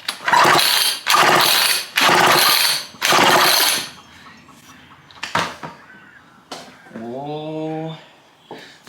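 A seized chainsaw is pulled over by hand, giving four loud, rhythmic rasping cranks followed by scattered clunks and a short rising squeak.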